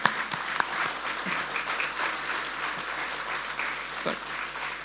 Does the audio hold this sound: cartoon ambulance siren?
no